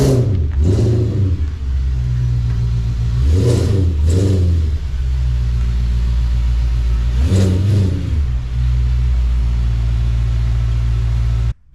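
An Audi's engine rumbles steadily close by as the car pulls into a garage, with a few brief revs rising over the constant low drone.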